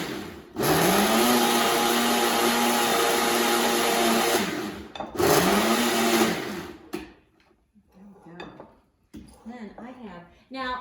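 An electric mixer whirs loudly through cream in two long bursts, its motor pitch sagging and rising as it churns, with a voice speaking briefly in between and after.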